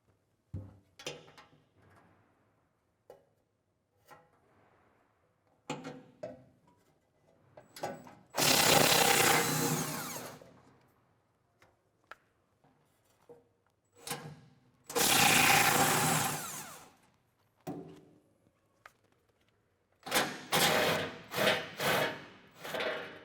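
Ratchet work on the 10 mm bolts of a Jeep Gladiator's spare-tire heat shield: scattered clicks and scrapes, plus three loud sustained bursts of ratcheting or spinning, close to the mic with no talking.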